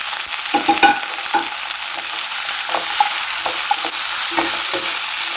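Onion fries in a pan for pork gravy, giving a continuous close sizzle broken by frequent clinks and scrapes of a spoon stirring against the metal, with no talking.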